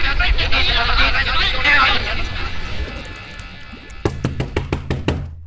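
Sharp knocks on a door, about eight firm raps in a quick run near the end, following a dense stretch of loud film background noise and commotion in a Hindi film scene.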